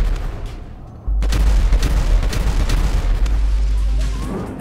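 A fragmentation grenade goes off in a video game with a sudden heavy boom, then a sustained loud rumble and crackle of debris that stays high for several seconds before slowly fading.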